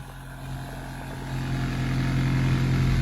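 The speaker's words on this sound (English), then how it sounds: "Let's get one more rev out of this because I like the way it sounds." A Honda Civic Si with a swapped K20Z1 engine idles with a steady hum, then the revs climb and the note grows louder and holds near the car, with no voices.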